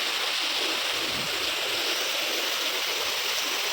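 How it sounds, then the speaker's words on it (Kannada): Heavy rain pours down in Channapatna, making a loud, unbroken wash of hiss with no pauses and no voices. "ಚನ್ನಪಟ್ಟಣದಲ್ಲಿ ಇವತ್ತು ಎಷ್ಟು ಜೋರಾಗಿ ಮಳೆ ಬರ್ತಿದೆ ನೋಡಿ"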